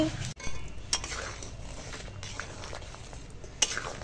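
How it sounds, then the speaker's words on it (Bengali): Metal spoon scraping and clinking against a pot while dal is stirred continuously over heat, quiet irregular scrapes and a few sharp clinks, close by with no talking. "তলা পুড়ে গেলে ডাল ভালো হবে না, তাই কন্টিনিউ নাড়ছি।"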